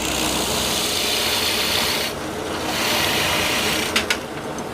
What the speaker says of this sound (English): I can run the drill.